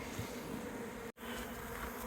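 A steady, dense buzzing of a honey bee swarm fills the air, close and continuous, with only a split-second dropout midway.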